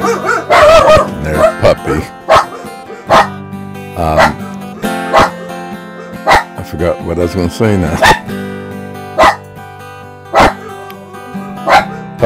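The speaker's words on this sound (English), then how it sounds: "barking in the background" A Bernese Mountain Dog barks in short, repeated bursts throughout, mixed in with someone talking and calling to the dog.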